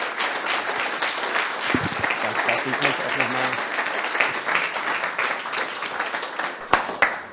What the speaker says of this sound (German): Das ist erstmal noch jetzt der erste Applaus von heute Abend.